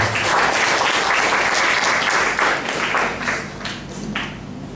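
Loud, dense audience applause at a national seminar on the death penalty in Islamic perspective, filling a hall continuously and thinning slightly toward the end.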